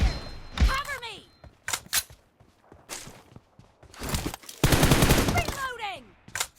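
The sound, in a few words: gunfire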